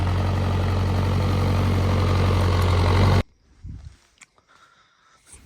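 A heavy Deutz-Fahr tractor engine idles loudly with a steady, deep rumble for about three seconds, then cuts off abruptly, leaving only faint scattered noises.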